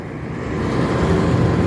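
A car comes along a highway while the camera sits at a link-road joining point, its steady broadband road roar rising slowly in loudness over the short stretch, with no voices.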